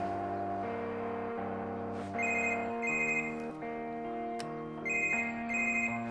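A mobile phone rings with a repeating electronic melody in short tonal bursts, fairly clear and mid-distance, with no voices over it.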